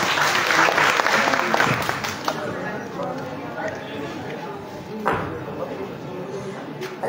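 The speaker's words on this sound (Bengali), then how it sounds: "জোরে সোরে একটা করতালি দিব আমরা" Audience clapping loudly for a dance performance at a live stage show, a dense burst of applause that thins out over several seconds while voices talk over it.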